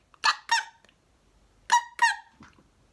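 A voice imitates a bat with two pairs of high, sharp squeaks separated by a short pause, close and clear.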